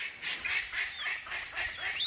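A palm cockatoo in rainforest gives a run of harsh, honking calls, repeated about every half second at a steady pace and heard close and loud.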